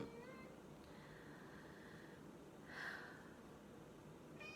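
A cat gives a faint, brief meow at a distance against a quiet background hiss, followed by a slightly louder second meow.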